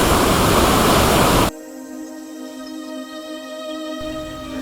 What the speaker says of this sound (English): the river was spectacularly furious on a 2 or 3 metre drop